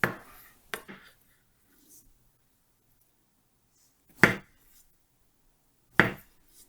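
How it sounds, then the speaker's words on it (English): A knife slices through peeled beets on a cutting board, giving three sharp, isolated chops spaced a few seconds apart, with quiet pauses between them. "it's time now to slice the beets"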